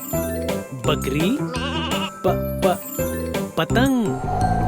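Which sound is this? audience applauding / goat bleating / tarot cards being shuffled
goat bleating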